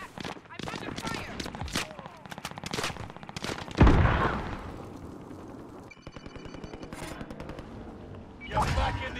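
Rapid automatic gunfire bursts and a heavy explosion sound out in Call of Duty: Modern Warfare, loud and close, with more rattling fire afterward and voices talking under the shooting.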